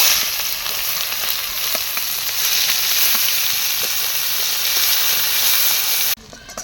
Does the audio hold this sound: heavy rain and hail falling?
no